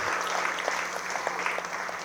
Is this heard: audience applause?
yes